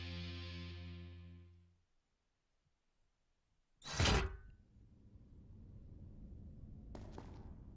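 A door opens in the video game Prince of Persia: Warrior Within. A short sliding thump is followed by a low rumbling grind that continues to the end, after a fading musical tone and a brief near-silent gap.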